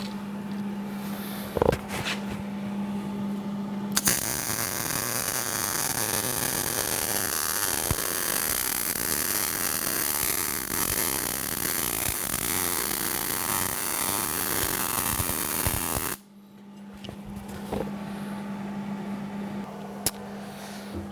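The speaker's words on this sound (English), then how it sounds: "Let's weld that in place real good." Welding a part in place on an oil-fired foundry furnace, a loud, steady crackling buzz that begins abruptly, runs unbroken for about twelve seconds and then cuts off, set against a quiet background hum.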